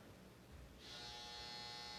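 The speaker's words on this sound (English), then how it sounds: "there's my dryer" Clothes dryer finishing its cycle, a sustained electric buzz that starts partway through and continues steadily, faint and heard from another room.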